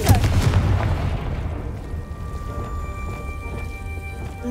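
An explosive fire spell cast in the video game Hogwarts Legacy bursts loudly at the start, a booming blast whose rumbling, crackling debris fades into a lingering low roar over several seconds.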